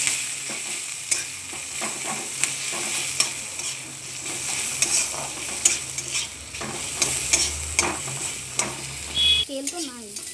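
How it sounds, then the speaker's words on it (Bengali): Onions fry in oil in a pan, with a steady sizzle under repeated scraping stirs of a spoon at an irregular rhythm, close and moderately loud. "পেঁয়াজটা লাল লাল করে ভেজে নেব।"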